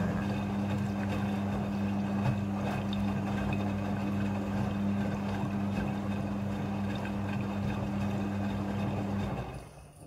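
Steady rushing hum of water filling a Midea front-loading washing machine, with a constant low drone that cuts off near the end.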